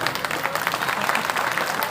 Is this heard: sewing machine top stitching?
no